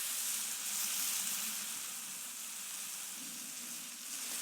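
A flipped burger sizzles on a BBQ grill, a steady close hiss of frying fat that holds without a break, and no one speaks.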